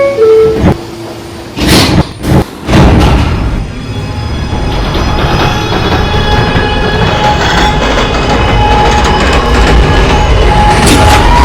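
New York subway A train at a late-night station stop: sharp door clunks and rattles, then a steady loud rumble and rolling clatter of the railcar as it gets underway.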